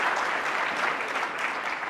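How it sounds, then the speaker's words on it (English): Audience applause fills a keynote hall, a dense, steady wash of clapping from a large crowd that stays loud and even throughout the short stretch, with no voices standing out above it. "This is one of those show-stopping, pop the champagne, toss the confetti, thunderous applause moments."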